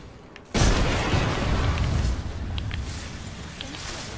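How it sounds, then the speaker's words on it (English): A gunshot in the video game Apex Legends: one sudden, loud, booming blast that cuts in abruptly, followed by a sustained roar of rumbling noise that slowly eases off. "I hear a gunshot"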